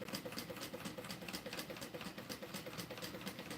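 A sewing machine stitches steadily with a quick, even mechanical chatter, faint and continuous without any talking.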